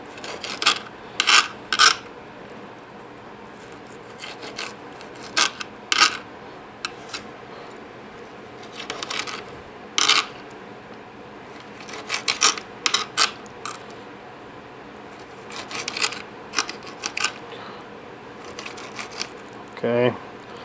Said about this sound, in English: we're just going to cut them into chunks